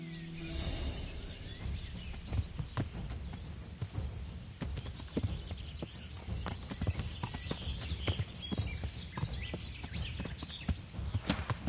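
Horse hooves clip-clop at a steady walking pace in the medieval game Kingdom Come: Deliverance, close and rhythmic, with faint outdoor ambience and occasional bird chirps.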